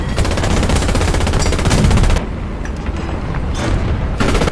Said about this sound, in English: Machine gun's not doing a whole lot here.